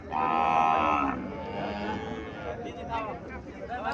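At a cattle fair in Cumilla, a Friesian cow lets out a long, loud moo, followed by mooing and crowd murmur from people nearby.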